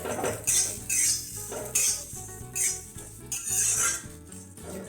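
Onion tipped into a frying pan and stirred with a utensil while making Kolhapuri misal, giving close scraping and clinking against the pan in irregular bursts, with no talk.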